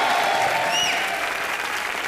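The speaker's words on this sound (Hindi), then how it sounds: "जोरदार तालियां।" Loud studio audience applause on a live comedy show, sustained and even, with a few whoops and faint whistles rising above the clapping.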